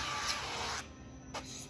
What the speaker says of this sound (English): So this is the organic extra virgin olive spray